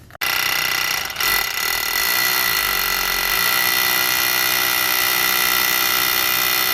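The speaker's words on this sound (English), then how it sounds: "So we've got it on hammer drill right here. Let's go ahead and drill our hole." Hammer drill boring a hole into concrete for an anchor, a loud steady high-pitched whirring grind that starts abruptly and continues unbroken for several seconds.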